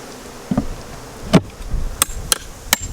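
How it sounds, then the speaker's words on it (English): Honey bees are shaken off frames in front of a hive in Hawaii's Big Island apiary, with a few sharp knocks and thumps over a faint, continuous buzz. "I just shake the bees in front."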